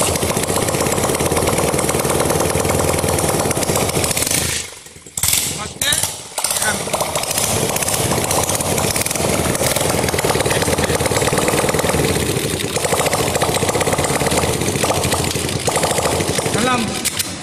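A loud, steady petrol engine fitted with water injection runs close by with a harsh mechanical rattle, briefly dropping out twice before roaring on continuously.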